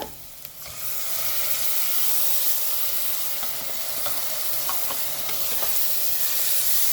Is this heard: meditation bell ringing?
no